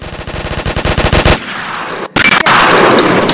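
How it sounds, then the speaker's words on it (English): Rapid bursts of video game gunfire, first a fast rhythmic volley of loud shots, then a brief pause and more sharp, close blasts with metallic ringing. "You're getting sniped."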